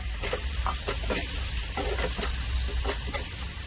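Loud, continuous sizzling of spices and red chili frying in hot oil for a tadka, with a steady crackle and occasional stirring scrapes, close up.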